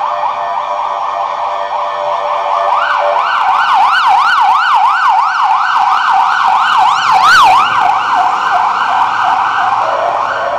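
A police siren wails on a city street, loud and close, its pitch sweeping up and down in a fast, repeating cycle that swells for several seconds.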